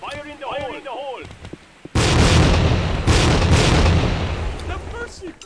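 A grenade goes off in the Tactical Ops multiplayer shooter, a loud broadband blast that sustains a roaring rumble for several seconds, following a stretch of voices and a few scattered gunshots.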